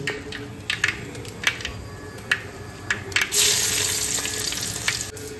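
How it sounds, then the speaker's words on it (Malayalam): Mustard seeds crackle with scattered sharp pops in hot oil, then a louder, steady sizzle rises as dried red chillies go into the pan. There is no speech. "കടുക് പൊട്ടി, വറ്റൽ മുളക് ചേർക്കാം കേട്ടോ"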